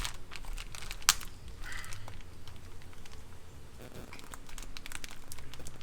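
Plastic packaging around an RC drag race chassis is crinkled, torn and pulled open, with a steady stream of close rustling and one sharp snap near the start.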